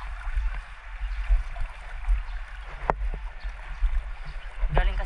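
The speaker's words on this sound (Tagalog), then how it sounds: "Uy, lakas ng agos." Floodwater rushing through a flooded town in Calasiao, Pangasinan, a steady turbulent flow with low rumble and splashing, heard close by under wind buffeting and a voice speaking.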